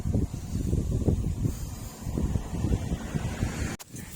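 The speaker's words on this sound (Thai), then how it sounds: "ลมแรงอยู่นะครับ" Strong wind buffets the microphone high up in a tree in loud, gusty rumbles throughout, with a brief dropout near the end.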